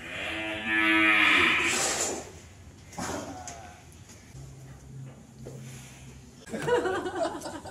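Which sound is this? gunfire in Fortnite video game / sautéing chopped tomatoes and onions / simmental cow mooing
simmental cow mooing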